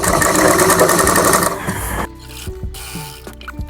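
A home sewing machine stitches the hem of an umbrella palazzo, running loud and steady for about two seconds before stopping, followed by quieter scattered handling noises.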